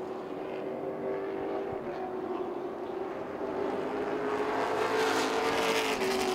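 Race cars in a Chargers class at Southern National Motorsports Park give a steady engine roar from a distance, rising slightly as the cars come round the track.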